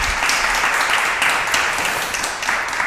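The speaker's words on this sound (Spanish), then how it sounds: "Que os den un fuerte aplauso para ir entrando en materia" An audience breaks into dense, continuous applause, many hands clapping at once in a loud, even wash with no pauses for the whole stretch.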